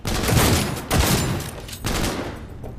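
Rapid bursts of gunfire in a Cyberpunk 2077 firefight, three dense volleys of loud, close automatic shots separated by brief gaps.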